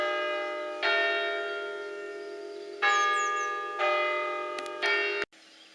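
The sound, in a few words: church bells striking ten o'clock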